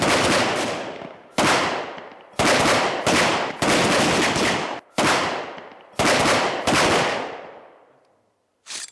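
Loud gunfire rings out at an Indian special forces training demonstration, a string of heavy bursts about a second apart, each trailing a long echo, ending with a fading reverberation and one faint late shot.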